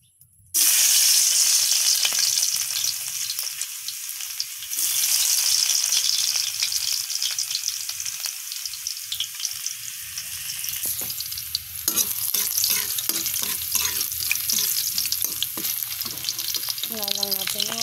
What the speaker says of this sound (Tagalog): Gigisa natin guys.